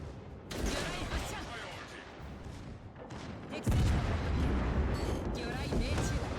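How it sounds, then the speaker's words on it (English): Naval gunfire booms and rumbles heavily in the World of Warships Legends video game, a dense, loud, continuous roar of shots and impacts with a person talking over it. "He shoots ricochets off our armor."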